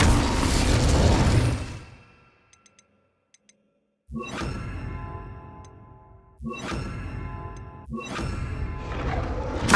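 Incendio fire spell in Hogwarts Legacy bursting out in three loud whooshing blasts, each fading away, with a near-silent gap holding faint clicks after the first one.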